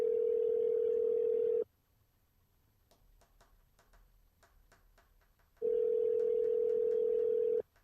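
A steady telephone dial tone sounds loud and close, cuts off for several seconds of faint clicks, then returns unchanged.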